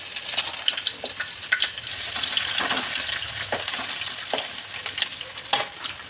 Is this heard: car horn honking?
no